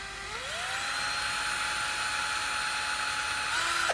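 A cordless 36V drill's chuck whirs up to speed, holds a steady high-pitched whine for about three seconds, then spins down.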